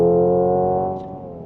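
Hyundai Ioniq 5 N electric car producing a synthetic engine-like tone during a simulated N-shift downshift: a steady, loud harmonic drone that slowly fades and thins over about a second and a half.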